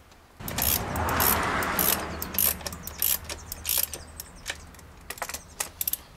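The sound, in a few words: tightening BMW 525i valve cover bolts until snug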